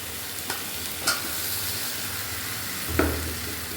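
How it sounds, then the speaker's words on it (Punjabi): Potatoes are stirred through hot frying masala in a pan, a constant close sizzle broken by a few sharp scrapes and clacks of the spoon, with no talk. "ਆਲੂ ਨੂੰ ਚੰਗੀ ਤਰ੍ਹਾਂ ਹਿਲਾ ਲਾਂਗੇ ਮਸਾਲੇ 'ਚ"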